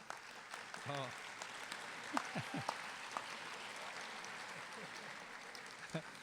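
Commencement audience clapping in a large hall, a steady wash of applause running throughout at moderate distance, with a voice speaking over it and a few cheers.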